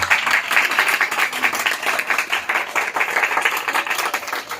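A congregation at an Urdu-Hindi church sermon breaks into dense, steady applause, many hands clapping together loudly and continuously with no talking over it.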